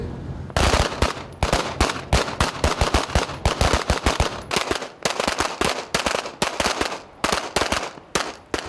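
Rapid bursts of gunfire ring out during a coast guard shooting drill on a rocking boat at sea, loud, close and sustained, with dense repeated shots in quick succession and brief pauses between volleys.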